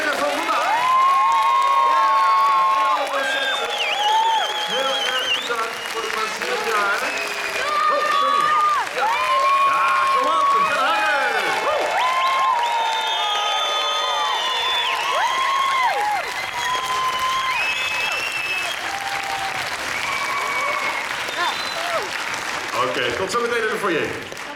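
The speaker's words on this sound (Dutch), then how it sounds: "Dames en heren, geef ze nog een heel groot applaus." A theatre audience claps and cheers loudly for the performers, a dense sustained applause with whoops and shouts from children and adults, while voices call out over it throughout.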